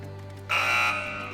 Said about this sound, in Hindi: चलिए बजर्स में एनेबल कर रहा हूँ।